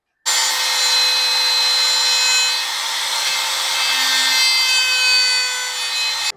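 A small gap is being cut into a handmade wooden bumblebee-themed popper fishing lure, giving a loud, close, continuous rasp of sawing for about six seconds with no talking.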